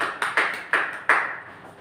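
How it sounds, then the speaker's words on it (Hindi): Audience clapping to welcome a speaker at a training program event: several sharp claps in an uneven run, moderately close, with no talk over them. "रमेश जी सर फ्रॉम जयपुर को आमंत्रित करना चाहूंगा जोरदार ताली के साथ।"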